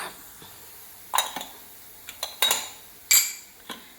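Metal clanks and clinks sound as puttu is lifted out of the steamer in a kitchen, with a few sharp knocks spaced irregularly over a quiet background. No one speaks.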